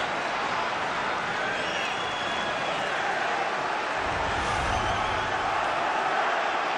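A football crowd at a Stoke City match against Manchester United roars in a broad, steady wash of stadium noise, with a low swell near the end.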